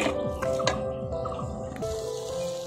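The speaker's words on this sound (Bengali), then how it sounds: "এবারে আমি এর মধ্যে দিয়ে দেব তেঁতুল। তেঁতুলটাকে দিয়ে একটু নাড়াচাড়া করে নেব।" Tamarind is stirred into melted jaggery in a pan, giving soft, sticky squelches and wet drips close by, with a faint steady tonal hum underneath.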